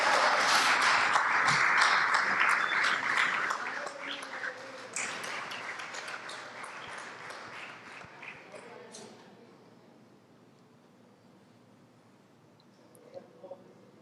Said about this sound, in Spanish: Démosle otro aplauso al Señor, hermano.